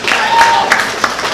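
An audience applauding at a college event, a dense wash of clapping from a crowd, loud and steady throughout the brief moment.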